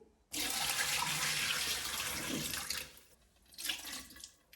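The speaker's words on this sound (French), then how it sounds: "Donc on peut aller vider ça à l'évier et vider ce bac là également." Water from a De'Longhi Magnifica Start coffee machine's tank or drip tray is poured into a kitchen sink, a steady rushing splash lasting a few seconds, then a shorter second gush.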